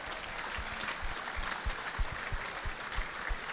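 A crowd at a premiership reunion luncheon claps steadily, a dense patter of many hands with individual claps standing out, sustained at moderate loudness with no voices over it.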